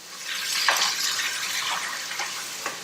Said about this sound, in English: And I'm gonna add 6 cups of water.